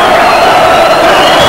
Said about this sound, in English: The crowd shouting, for goodness sake, blow for full time.